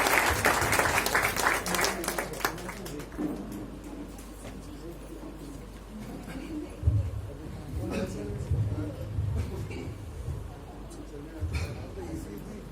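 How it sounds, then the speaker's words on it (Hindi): Applause from an audience welcoming an elderly man, the father of a guest, to speak at a Vistar Foundation event, rising loud at first then thinning into scattered clapping under voices and crowd murmur. "जोरदार तालियों से इनका स्वागत कीजिए"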